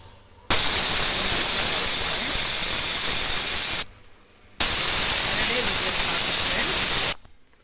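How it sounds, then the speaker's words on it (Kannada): Pressure cooker cooking green pulao rice, giving two loud sustained steam whistles, each a harsh hiss lasting about three seconds with a short pause between them. "2 ವಿಜಲ್ ಕೂಗಿಸ್ಕೊಳ್ಳೋಣ ಫ್ರೆಂಡ್ಸ್."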